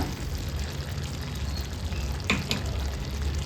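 Raw banana pieces being stirred with ground spice powder in a pan on the stove, a steady soft sizzle with a couple of brief scraping stirs near the end; no speech.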